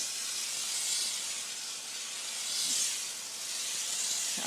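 Sandcarving blast nozzle held very close to the workpiece, a steady broad hiss of abrasive and air that swells and eases slightly, continuous and alone with no talking.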